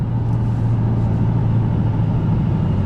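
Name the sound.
2024 Ford Mustang GT Premium car driving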